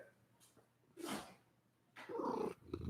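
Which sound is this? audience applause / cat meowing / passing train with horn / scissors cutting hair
cat meowing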